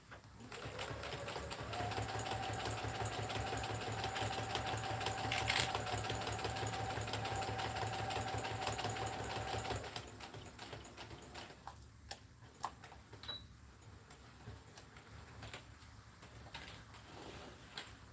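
A sewing machine runs a steady, continuous stitching buzz on a bucket hat seam, including a short backstitch. The motor stops after about ten seconds, leaving faint clicks and handling noises.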